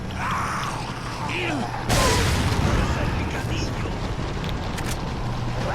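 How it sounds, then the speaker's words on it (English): A grenade blast in Resident Evil 4 hits suddenly about two seconds in, a loud broadband boom that fills the mix and decays into a long rumbling tail under steady game background noise. "Make him throw a grenade."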